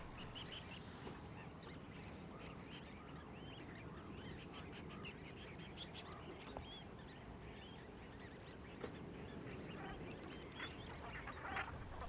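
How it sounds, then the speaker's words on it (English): A large flock of Brent geese keeps up a dense, continuous chorus of soft honking and murmuring calls, steady throughout with no talking. "Brent geese arrive in their thousands, fleeing the cold winter of Arctic Russia"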